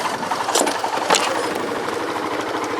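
A small machine engine idles close by with a quick, even chug, steady and fairly quiet, with a couple of brief sharp clicks near the start.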